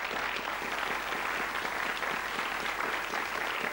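Studio audience applauding the Countdown champion Daniel on a 1998 TV quiz show, a steady, dense wash of clapping that holds at even loudness throughout with no voices over it.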